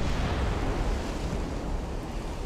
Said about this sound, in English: Open fire. If you please. Guns.